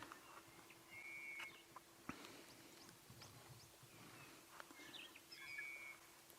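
Several birds call back and forth outdoors, short whistled notes and chirps repeating at intervals over a quiet background.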